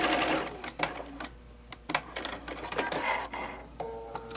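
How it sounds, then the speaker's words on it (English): A sewing machine stitches down the length of a quilt, a steady close mechanical whirr with rapid needle chatter that stops briefly and then restarts, with no speech over it. "we're going to sew all the way down"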